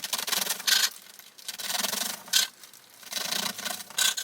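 A knife saws through a loaf of bread to cut angled bruschetta slices, giving repeated rasping back-and-forth strokes in close, fairly loud bursts with short pauses between them.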